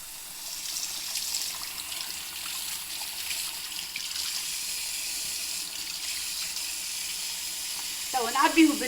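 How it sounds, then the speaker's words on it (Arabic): Tap water runs steadily into a piece of tripe being filled for cleaning, a continuous close hiss and splash that persists unbroken, with a brief voice and clatter near the end. "نعبيه بالماء باش نوريكم كيفاش ولا ابيض"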